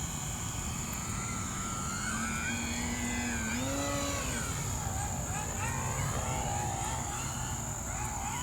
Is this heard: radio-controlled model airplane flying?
yes